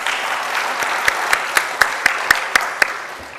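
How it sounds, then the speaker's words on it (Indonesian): An audience at a national science and technology planning conference claps for the organizing committee, a sustained patter of applause with several sharp, evenly spaced louder claps standing out. "Kami mohon beri aplaus kepada panitia."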